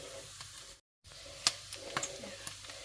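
Thai larb chili powder sizzling in hot rendered pork fat in a pan, a steady soft frying hiss with scattered pops and crackles, close and quiet, with no talking.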